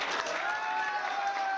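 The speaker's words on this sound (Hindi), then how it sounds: "तो जोरदार तालियों के भी स्वागत कीजिए गौहर कुचे का।" An audience applauds a news team member at a facilitation ceremony, a brief burst of dense clapping with a sustained tone running through it and murmured crowd noise beneath.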